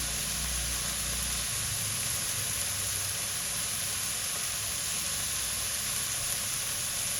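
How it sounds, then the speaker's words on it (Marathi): Paneer fried rice with spring onion, red chili sauce and soy sauce stir-frying in a pan at home, a steady, even sizzle and hiss running throughout without pause, with no voices. "सोया सॉस घालू आणि परतून घेऊया"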